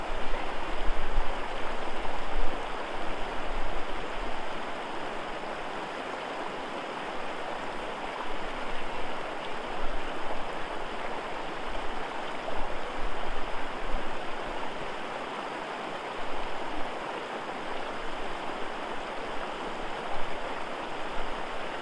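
A snowy mountain stream flows steadily at a hiking crossing, a continuous broadband rushing of water heard alone at moderate, even loudness with no talking.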